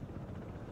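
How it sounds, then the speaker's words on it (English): Two attack helicopters close in during a Broken Arrow modern-warfare battle: a steady, dense low rotor rumble with windy noise, continuous and fairly loud throughout a brief moment, with no talk. "Helicopters coming in, two of them."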